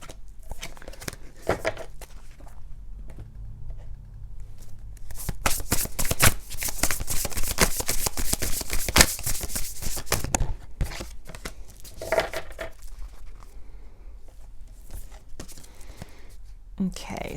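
Oracle cards are shuffled close up in repeated crisp, riffling bursts, with a longer dense run in the middle and quieter shuffles before and after.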